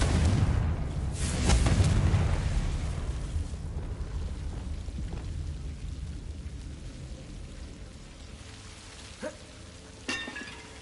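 The Confringo fire spell in Hogwarts Legacy bursts with a loud, rumbling blast up front that fades into a long crackling, hissing tail, with a couple of sharper hits near the end.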